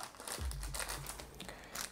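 A plastic bag of board game pieces, cattle tokens from Great Western Trail: Argentina, crinkles up close during unboxing in a short, quiet burst of rustling with no talking.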